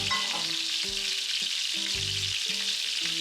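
Flatbread frying in a very hot cast iron pan set on the boiling plate of an Aga range, a steady dense sizzle with faint clinks and stirring knocks underneath, no voices.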